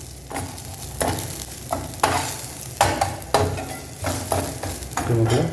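Green chillies sauté in oil for a mint chutney, sizzling steadily while a spoon repeatedly scrapes and stirs the pan in irregular strokes, fairly close and with no talk.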